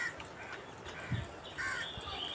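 A flock of crows gathered together, their overlapping caws coming close and fairly loud over a constant outdoor hiss in a short burst of calling.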